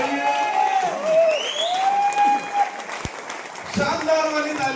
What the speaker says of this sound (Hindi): एक बार खड़े होकर के अजय सर के लिए जबरदस्त वाली तालियां होनी चाहिए